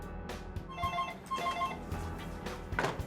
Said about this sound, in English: Alex makes a call to her phone posing as a representative from her bank